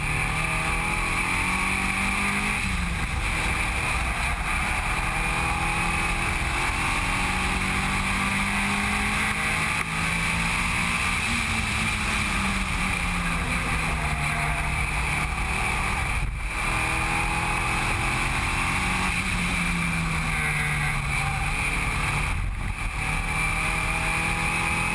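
Onboard engine of a Mitsubishi Lancer race car lapping Eastern Creek Raceway, a steady loud drone with rising and falling pitch through gear changes and corners, continuous and close throughout.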